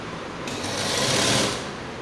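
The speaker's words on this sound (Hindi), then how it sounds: "तो इस पट्टी को ऐसे रख के यहाँ पे आधा इंच पे सिलाई लगाएंगे।" Steady, loud mechanical whir of a sewing machine running a half-inch seam to attach a bias strip to a peplum top, one short continuous burst.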